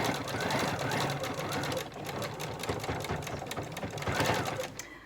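A sewing machine stitching a fabric face mask, close and loud, running in steady bursts of rapid needle clatter with a brief slowdown over bulkier layers.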